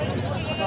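A goat bleats at the Parbhani livestock market, a brief, close, wavering cry filling the moment amid market noise.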